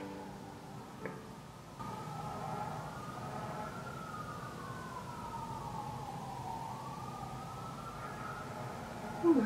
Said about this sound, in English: there's like so many sirens and emergency vehicles outside right now